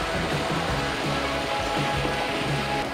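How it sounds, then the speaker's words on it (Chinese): A nearby waterfall in the Au Pui Wan stream in Hong Kong gives a steady, full roar of falling water with no breaks, filling the short stretch evenly at moderate loudness. "原來有個咁近的瀑布嘅"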